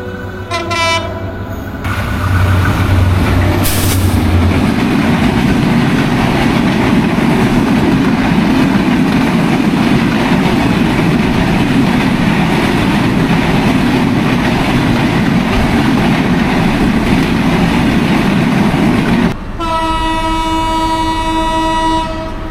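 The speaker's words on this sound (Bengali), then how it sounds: "অপর দিক থেকে তীব্র গতিতে ছুটে আসছে একটি ট্রেন। এটি ব্রডগেজের ট্রেন।" A loud broad gauge express train, the Banalata Express, roars past at speed for most of the clip, steady heavy rumble with a horn blast at the start and again as it fades.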